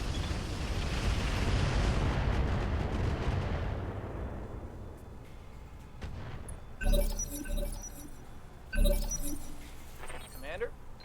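Missiles slam into a building in the mech game Roguetech, a loud rolling rumble that gives way to sharp, crackling blasts and scattered debris impacts, with a voice talking over them.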